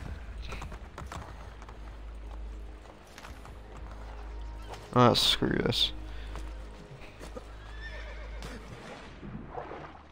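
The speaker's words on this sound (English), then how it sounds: "What the hell are you doing, horse?" In the video game Assassin's Creed Brotherhood, a horse gives a loud, close whinny midway amid soft clip-clopping hooves, while someone talks over the scene.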